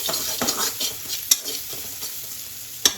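A spoon stirring salt into masale bhat in a pan, with close scraping and sizzling strokes and a couple of sharp clinks against the pan, loud and steady with no voices.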